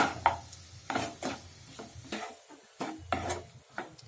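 Boiled potatoes being mashed and mixed with semolina in a bowl, a series of separate soft thuds and scrapes from a spoon at irregular intervals, close and quiet with no talking.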